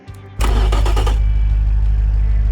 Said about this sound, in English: let's fire this beast up